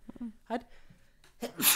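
A sudden sneeze bursts out near the end amid casual podcast conversation, loud and close, with a breathy onset followed by a sharp noisy blast; voices talk before it.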